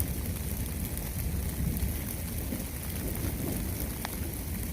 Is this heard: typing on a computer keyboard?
no